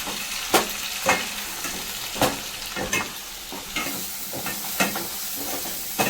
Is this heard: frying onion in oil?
yes